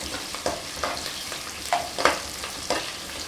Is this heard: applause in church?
no